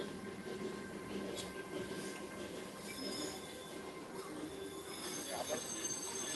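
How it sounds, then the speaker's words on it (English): Disneyland train passing at a distance, a faint rumble with metallic wheel squeals and a diffuse wash of crowd noise and voices around it. "There goes the train."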